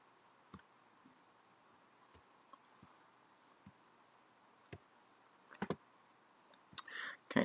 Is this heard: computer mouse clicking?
yes